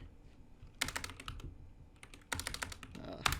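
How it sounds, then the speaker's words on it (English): Quiet computer keyboard typing in short bursts of crisp clicks, with brief pauses between the clusters of keystrokes. "just general keyboard clicking"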